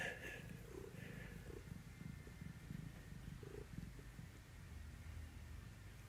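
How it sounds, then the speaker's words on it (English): A cat named Mook purrs up close, a soft, continuous low rumble with faint rustling, quiet throughout. "he's purring up a storm in here"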